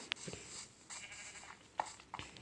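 Minecraft sheep bleating, a few short, faint bleats scattered over a quiet background, separated by gaps.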